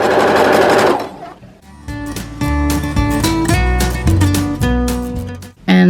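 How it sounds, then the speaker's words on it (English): A sewing machine set to its longest stitch length, 5, runs gathering stitches through fabric for ruffles: a loud, fast, even mechanical whir with pitch shifts as speed changes, a short pause near the start, then steady running. "And I'm just gonna sew it."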